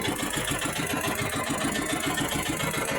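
A small boat engine runs steadily and loudly at close range, with a fast, regular mechanical chug and no voices over it.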